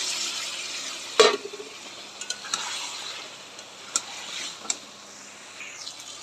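Egg, potato and pointed gourd go into spiced oil with bay leaf in a pan and fry with a faint, soft sizzle. A sharp clatter and a few light ticks and scrapes sound over it.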